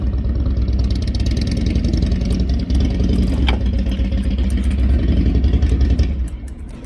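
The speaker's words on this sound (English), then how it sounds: "Motorcycle was making a lot of noise" A motorcycle engine runs loudly nearby with a steady, throbbing mid-pitched drone, holding for several seconds before easing off near the end, while faint clicks and small mechanical sounds come through over it.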